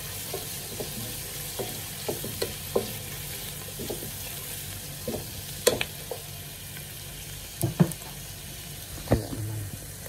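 Chicken and string beans fry in a pan, giving a steady sizzle with occasional scraping stir clicks over about ten seconds, no talking.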